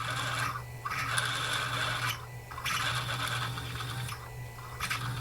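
A 5 millimetre reamer cuts through a drilled hole on a Proxxon FF230 milling machine, giving rhythmic rasping scrapes in repeated bursts over a steady low motor hum, close and fairly quiet.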